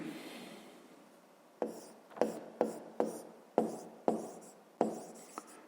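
Pen strokes on notebook paper while working a fifth-grade geometry problem: a run of close, short scratching bursts, about eight of them, each fading quickly, with a soft rubbing hiss before the first.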